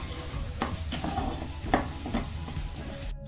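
Ground green chili and garlic paste stirs and sizzles in hot oil in a pan, a continuous close frying hiss broken by scraping stirs.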